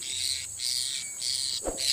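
A puling (nuri tanau) bird calling outdoors among trees, short bright chirps repeating over a steady background of insect buzzing, moderately loud and close.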